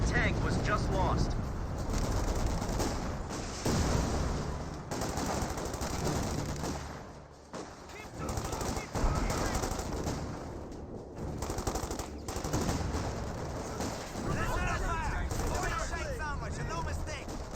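Rapid machine-gun bursts and scattered gunshots crackle throughout a Company of Heroes 2 battle, dense and continuous, with a voice talking over the fire.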